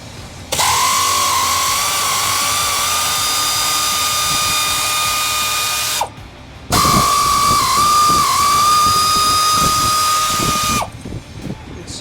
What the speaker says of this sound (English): We're going to do that by removing the outbound nuts on the bumper bracket on both the passenger side and the driver's side.